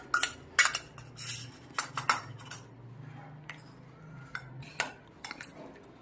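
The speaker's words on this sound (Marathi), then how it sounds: "आपण त्या कोशिंबीरीमध्ये टाकून घेऊया आणि एकत्र करून घेऊया" A spoon clinks and scrapes against a bowl in short irregular bursts, mixing curd into a tomato, onion and cucumber salad, with a soft wet mixing sound between taps, close by and fairly quiet.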